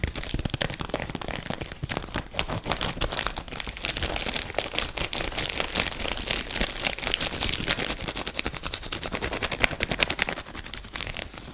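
Dense, continuous crinkling of a soft plastic-wrapped package of tissue with ripply sides, handled close to the microphone in steady rustling bursts.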